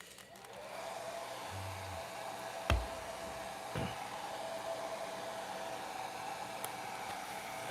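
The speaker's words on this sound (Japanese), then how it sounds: "ちょっと左手すみません、ドライヤー乾かしますね。" A hair dryer blows steadily across the whole stretch to dry paint during a live painting session, with a couple of brief knocks and clicks over its constant hiss.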